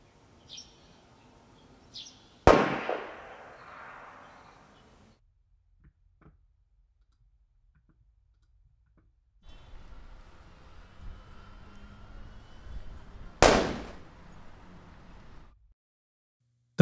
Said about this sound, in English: to return to our gunshot sounds